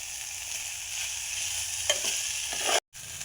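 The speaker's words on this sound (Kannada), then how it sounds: "ಇವು ಚಂದಾಗ ಎಣ್ಣೆಯಾಗ ಫ್ರೈ ಆದಮೇಲೆ" Vegetables coated in homemade masala fry in oil for a hotel-style vegetable pulao, producing a steady close sizzle with a couple of stirring scrapes before the sound cuts out abruptly near the end.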